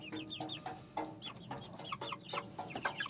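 Two-month-old Australorp chickens cluck softly at close range, a quick irregular run of short clucks and chirps over quiet background.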